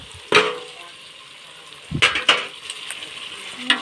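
Tomatoes being stirred into a hot cooking pan: a few distinct scraping clatters of a utensil against the pan over a low steady sizzle, close and without talk.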